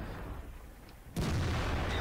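A tank shell glances off a Tiger II in World of Tanks, a sudden loud impact bursting in about halfway through and carrying on as a sustained heavy rumble over the quieter battlefield ambience before it.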